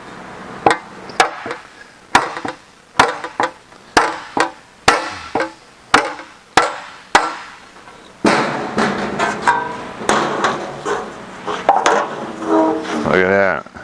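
Hammer blows on an aluminum Jaguar E-Type bonnet panel being shaped over a fulcrum: about a dozen sharp, evenly spaced metallic strikes up close, then faster, denser clattering hammering with some clanging toward the end.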